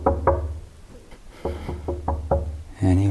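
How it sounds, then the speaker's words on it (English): Knocking on a door during a nighttime camping outing, a series of loud, hollow raps in uneven clusters, close by, with a brief burst of talk at the end. "Should I knock? This is weird. I wouldn't. I have to knock."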